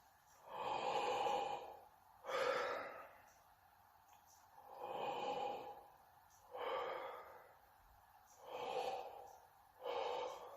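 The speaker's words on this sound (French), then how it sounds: "le ventre gonfle, les épaules ont même tendance à se baisser. Donc, c'est une respiration qui est profonde." Slow, deep belly breathing during a breathing-technique demonstration: about five long, audible inhale-exhale cycles, close and airy, with no talking.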